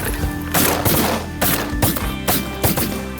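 Hunters' shotguns fire at spring snow geese, several sharp blasts in an irregular volley spread over a few seconds, loud and close, some shots overlapping.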